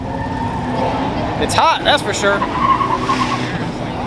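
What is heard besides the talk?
drift race cars skidding tires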